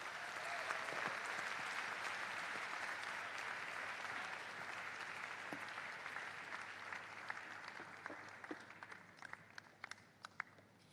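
An audience at a career fair in a hall claps after a speech, sustained applause that slowly thins, leaving scattered individual claps and a few louder close ones toward the end.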